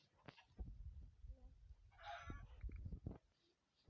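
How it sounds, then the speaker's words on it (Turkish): A Minecraft chicken clucks in a short burst in the middle, with faint game sounds and thumps around it and no speech. "Tavuk var orada tavuğu öldürelim."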